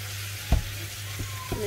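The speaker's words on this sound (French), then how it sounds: "Et on mélange tout ça." Meat and parsley mixture sizzling and frying in a pan for a quick gratin, with a few scrapes and knocks of stirring over a steady hiss, close and fairly loud, no talking.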